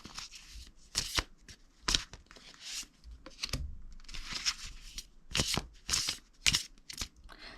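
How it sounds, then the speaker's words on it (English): Tarot cards being shuffled up close, with bursts of crisp riffling and snapping and softer sliding in between, repeating about eight times with no talk. "So let me shuffle the cards."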